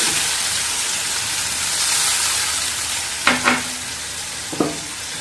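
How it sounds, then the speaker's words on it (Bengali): Ground tomato paste fries in a pan with a loud, continuous sizzle and hiss, broken near the end by a couple of scraping stirs and knocks of a spoon. "এবার টমেটো বাটাটা ভালো করে কষে নিয়ে"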